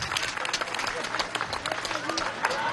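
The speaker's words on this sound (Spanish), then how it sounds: "vamos a darle un aplauso, un CLAP a los CLAP" Audience applause at a Venezuelan government event, a lively stretch of many hands clapping with uneven bursts, fairly close, while voices carry on beneath it.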